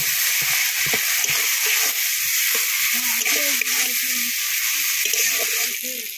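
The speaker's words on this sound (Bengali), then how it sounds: "এবার রসুন বাটা, আদা বাটা আর লঙ্কা বাটাটা দিয়ে দেবো। দিয়ে ভালো করে নাড়িয়ে নেব।" Garlic, ginger and chili paste frying in a pan, a steady loud sizzle with scraping stir strokes throughout and a voice speaking briefly over it.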